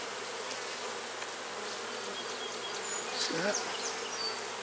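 Honey bees swarm around an open hive during an inspection, producing a constant close buzz with individual bees whining past, and a voice briefly speaks.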